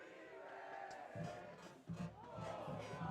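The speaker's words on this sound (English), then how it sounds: "The Pine Ridge Panthers just marched onto the field to the adulation of the crowd" Crowd at a high school varsity football game cheering the Pine Ridge Panthers as they take the field, a faint, distant roar with swelling shouts and band sounds blending in.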